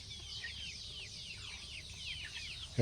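Rapid high peeps from a sick chick with a cold and watery eyes repeat continuously at close range, ending in a sudden loud bump.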